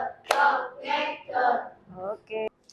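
A classroom of children claps in rhythm on the teacher's count, with sharp hand claps between short bursts of voiced chanting. The group sounds close and lively, and the clip ends in sudden silence.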